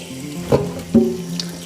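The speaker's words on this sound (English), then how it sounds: "Run some water." Water runs from a kitchen tap while a freshly caught reservoir fish is cleaned, a steady close splash with a couple of sharper knocks and splatters as the fish is rinsed.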